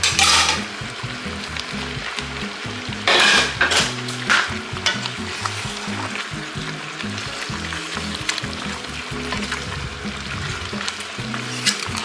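A small piece of ginger goes into a sizzling pot of Haitian stewed turkey wings, with a continuous close crackle and repeated bursts of stirring and scraping against the pot.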